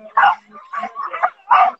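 Several sled dogs bark and yip in short, loud bursts at the start of a sled dog race stage in Valmorel, part of an eight-dog category, with no talk over them.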